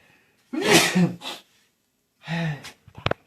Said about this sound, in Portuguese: Comecei a espirrar.